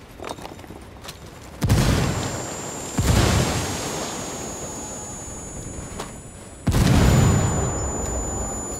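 Frag grenade blasts in the tactical shooter Ghost Recon Wildlands, several heavy booming explosions spaced a few seconds apart, each loud and close with a rumbling tail, over low background noise.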